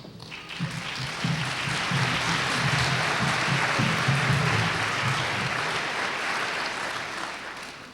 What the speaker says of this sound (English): We also ask that you applaud generously when Grumpy enters with the applause sign